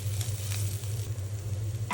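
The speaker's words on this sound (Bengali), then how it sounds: "দিয়ে এবার ভাজা ভাজা করবো যতক্ষণ না ভাজা ভাজা হয়।" Cumin powder frying in mustard oil with onions and chilies, a steady close sizzle with a low hum underneath and no talking.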